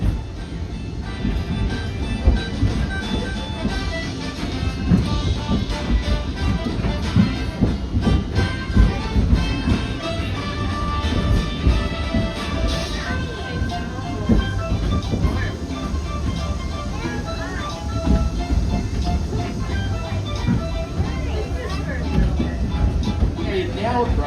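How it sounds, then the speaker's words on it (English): Disney Animal Kingdom theme park train running on its rails, a steady loud rumble with rolling low clatter throughout, mixed with crowd voices and announcements close by. "We're now approaching Conservation Station. Train arriving!"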